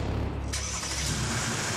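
A Mercedes-Benz estate car's engine catches partway through, its starter cranking into a steady, close idle hum that continues to the end.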